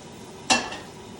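A tablespoon of shallots hits a hot pan for chicken marsala with a single sharp sizzle burst that flares up and then fades into a soft hiss, close and brief.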